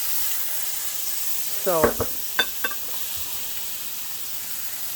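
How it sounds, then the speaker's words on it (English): Meats sauté in a hot pan while cooking oriental fried rice, giving a steady, even sizzle throughout. A few brief utensil clinks and a short spoken word come in near the middle. "you're going to saute your meats"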